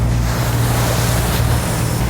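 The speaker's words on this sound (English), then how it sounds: "Wow, the waves are big here." Big ocean waves surging against the rocky shore of a volcanic island off northern Taiwan, a loud, continuous roar of surf with strong wind buffeting the microphone.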